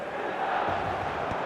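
Stadium crowd murmur at San Siro in eFootball, a steady broad roar of many voices held at a moderate distance with no distinct chants.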